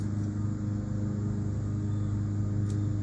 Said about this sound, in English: Sorry for the lawnmower noise.